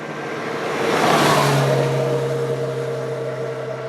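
A Yamaha Fazer 8 motorcycle with an inline-four engine gives a steady, loud engine roar that swells in the middle as it revs and moves off, with a continuous droning tone and no voices.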